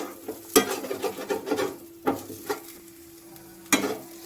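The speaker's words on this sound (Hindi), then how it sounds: "और मैं थोड़ी देर 1 मिनट तक फ्राई करूंगी।" Crushed spices fry in a pan as a spoon scrapes and stirs, giving a soft sizzle broken by several sharp scraping strokes at an uneven pace, close by with no talking.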